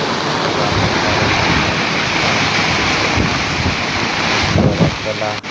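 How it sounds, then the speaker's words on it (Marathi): Water rushing over a small check dam, flowing on both sides, a loud steady broadband roar filling the whole stretch, with brief rough bumps near the end. "हे बघा इकडं बंधारा आणि पाणी पण चालू आहे, दोन्ही साईडने पाणी चालू आहे"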